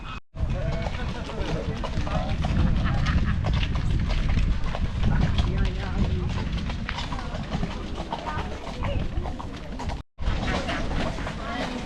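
A horse-drawn carriage with disc brakes rolls past in Munich with steady hoof clops and rattling wheels amid loud, broadband outdoor rumble, with a brief dropout near the start and end.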